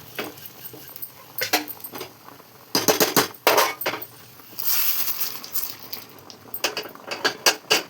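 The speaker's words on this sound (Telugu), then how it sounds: "ఇప్పుడు మనమైతే ఇవి పప్పులు అయితే వేసుకుందాం" Dry lentils (dal) being poured into a pan of cooking ridge gourd, heard as bursts of rattling, clinking grains against metal in several close, sharp clusters separated by quiet gaps.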